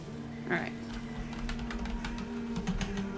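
Computer keyboard typing during a Valheim game session: scattered quick clicks and taps over a low, steady game hum.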